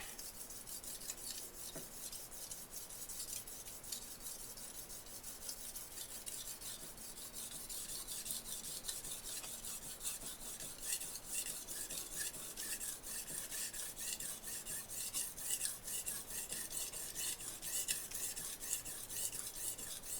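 Steel knife blade scraped along a brick in repeated rasping passes, a steady gritty abrasion running throughout at close range with no talking.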